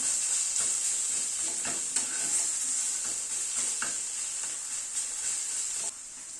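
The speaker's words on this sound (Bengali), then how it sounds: "শাকটাকে একটু ভাজা ভাজা করে নিলাম" Steady frying sizzle of spinach in a pan with a bright hiss, broken by soft scraping stirs every second or so; close and continuous, no voices.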